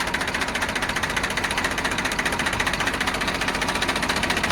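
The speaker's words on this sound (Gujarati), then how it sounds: "એન્જિન એકદમ પાવરફુલ, તમે જોઈ શકો છો" A New Holland 3600 tractor's diesel engine idles nearby in a loud, steady, even rhythmic chug that runs unbroken throughout, with no voices.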